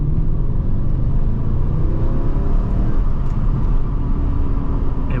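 A loud, continuous low engine rumble from inside a moving Mercedes CLK 55 AMG coupé as it accelerates, steady throughout with no voices.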